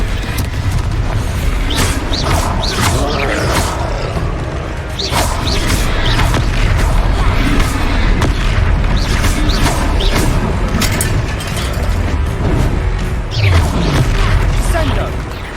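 Fiery spell explosions in the Hogwarts Legacy game burst repeatedly in a loud, dense stream of booms and crashes with whooshing impacts, mixed with battle noise and shouted voices.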